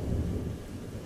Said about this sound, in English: don't know if you guys can hear the thunderstorm outside